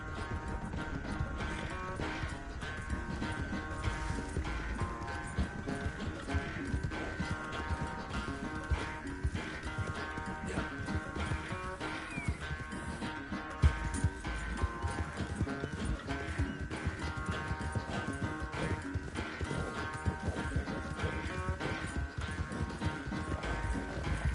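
Hooves clatter in a steady galloping rhythm throughout a horse race in the video game Red Dead Redemption 2, mixed with a constant bed of game music and ambient noise.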